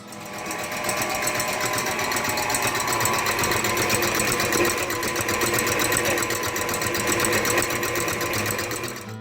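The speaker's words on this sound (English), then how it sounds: "we're going to beat the egg whites until they are fluffy." An electric mixer whips egg whites for chile relleno batter, a loud, steady whirring motor buzz running continuously close by.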